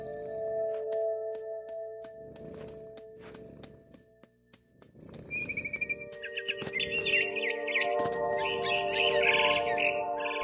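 Bird chirps from the video game What Remains of Edith Finch, set in a big tree, start as faint scattered tweets and then become a dense run of quick, bright calls over a steady tonal game ambience.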